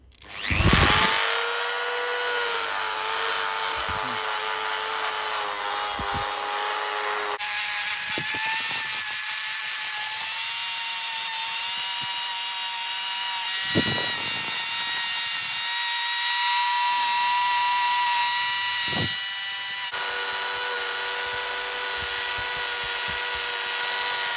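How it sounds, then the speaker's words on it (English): Abrasive polisher working a Beretta 1301 shotgun's loading port, a loud continuous high-pitched whine of the rotary tool, its pitch stepping up and down across the run, with brief breaks and scraping contact sounds throughout. "I'm going to get in there with an abrasive polisher."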